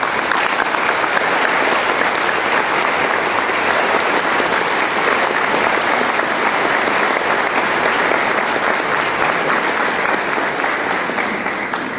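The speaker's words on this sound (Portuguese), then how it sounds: "É com muito carinho e com uma salva de palmas calorosa que recebemos Cosme" A warm, sustained round of applause from an audience at a spiritist gathering in Poços de Caldas, greeting an arriving speaker, loud and even throughout without a break.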